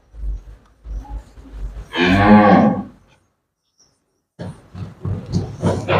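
A dairy cow gives one long, loud, close moo lasting about a second, with other quieter animal and background sounds before and after it.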